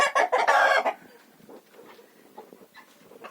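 Young and older hens in a village farmyard cluck and squawk, loud and close at first, then a scatter of softer, fainter clucks and calls.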